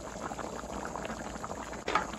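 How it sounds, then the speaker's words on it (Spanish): Chicken for arroz con pollo bubbles in a pot of boiling water, a steady dense rolling burble heard up close, with a brief stir or splash near the end. "Ya tiene 3 minutos hirviendo"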